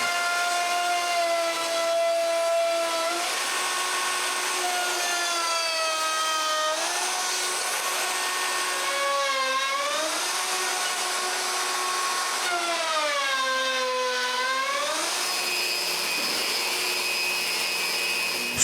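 A power sander works a live-edge wood slab with 120-grit paper, a continuous loud whine whose pitch rises and falls as the tool moves across the surface, with no voices.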